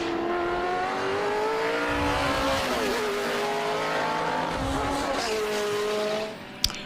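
Ford EL Falcon and Holden VS and VT Commodore heritage touring cars racing at Winton, loud engines roaring past together with shifting pitch as they pass, then fading away.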